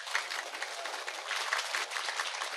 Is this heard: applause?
yes